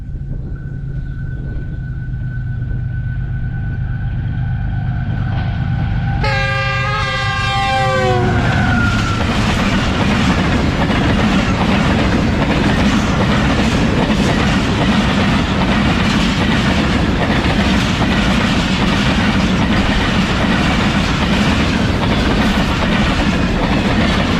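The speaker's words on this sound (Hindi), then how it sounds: "ये मेरे सामने से इस वक्त आ रही है कराची लाहौर के दरमियान चलने वाली 15 up Karachi express GU40 train के लीड पर है और ट्रेन काफ़ी अच्छी स्पीड में है" The 15 Up Karachi Express, a passenger train running between Karachi and Lahore behind a GU40 locomotive, sounds its horn and then roars past at high speed, its loud continuous rumble and wheel clatter filling the rest of the pass.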